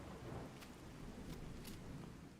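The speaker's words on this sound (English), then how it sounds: "Ooh, the storm is loud." A Fallout 4 thunderstorm: constant rain hiss over a deep rolling rumble, with a few brief sharp crackles breaking through, loud and unbroken, no one speaking.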